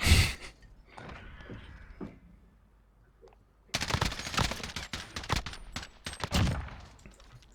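Gunfire in a Call of Duty multiplayer match, with a few sharp shots early on and then dense, loud automatic bursts and rapid shots packed closely together through the second half.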